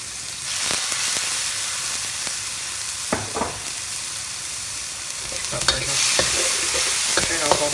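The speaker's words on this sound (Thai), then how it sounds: "ใส่เหล้าจีนลงไปหน่อยครับ" Chinese cooking wine hits a hot wok with chicken, giving a steady loud sizzle and hiss. Scattered spatula scrapes and clacks punctuate it, growing busier toward the end.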